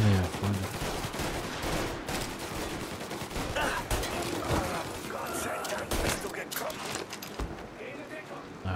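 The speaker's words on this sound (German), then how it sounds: "Ihr knallt die ab, Tom!" Dense, rapid gunfire crackles continuously in a busy battle in Mafia: Definitive Edition, volleys of shots overlapping with German voices talking throughout.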